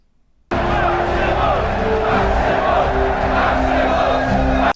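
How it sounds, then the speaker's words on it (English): A packed arena crowd from the film Gladiator roars and cheers continuously, a dense, loud wall of voices that starts abruptly and sustains throughout with shouts rising over the mass. "Wow, the crowd prefers Maximus."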